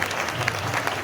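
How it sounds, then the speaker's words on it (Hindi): Congregation applause at a midnight Christmas church service, a short burst of steady clapping from a gathered crowd, moderately loud and continuous with no speech over it. "यीशु मसीह की वलादत की ढेरों खुशियां जोरदार तालियों में बहुत ज्यादा मुबारक हो"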